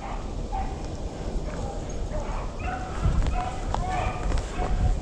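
A rabbit-hunting dog barks repeatedly nearby in short bursts, mixed with someone talking over it outdoors.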